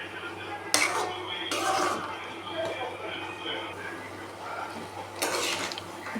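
Metal spoon scraping and clinking against a pot while potato kootu is stirred, a few louder knocks standing out over low kitchen background noise.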